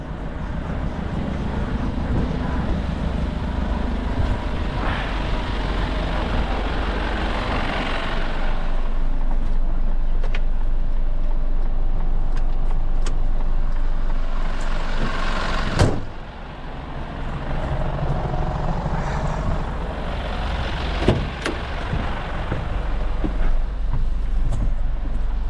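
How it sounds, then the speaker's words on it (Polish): A car engine idles steadily after being started during a roadside assistance and towing job in Berlin, a loud, constant low rumble that carries through the whole stretch with a brief dip partway. "No i widzicie, samochód odpalony."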